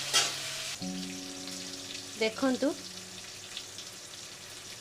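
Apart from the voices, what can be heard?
cabbage vegetable frying in a pan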